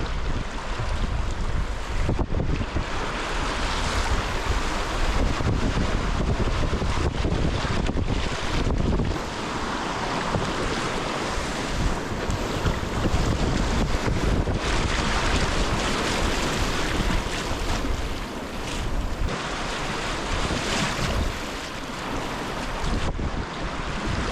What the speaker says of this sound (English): typically where there's a bridge, there's gonna be rapids, at least in my experience